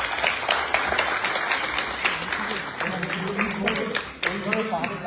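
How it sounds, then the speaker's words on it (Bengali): An audience at a special screening of the film Dhumketu claps steadily, the crisp hand claps continuing under a voice talking nearby. "তার জন্য সত্যি একটা জোরে হাততালি দেওয়া উচিত"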